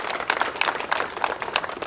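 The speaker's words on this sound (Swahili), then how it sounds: "Mpigie makofi jamani." Audience applause for a director general at a public event in Nairobi, a steady wash of many hands clapping through the whole short stretch, fairly even with slight swells and no talk over it.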